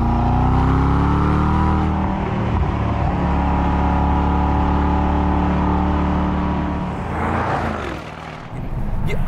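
A 2024 AMG S63 E-Performance engine drones loudly and steadily with layered harmonics as the car drives, then the note drops and rises again as throttle comes back on at a corner exit, with no talk.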